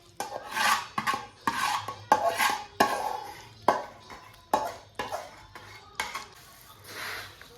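Food being mixed by hand or spoon in a bowl, with jaggery added, for sweet laddoos at a Uttarayan kite-festival home. Repeated close scraping and clinking strokes come in irregular bursts, with no talk.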